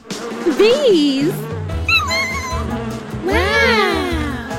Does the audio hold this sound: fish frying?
no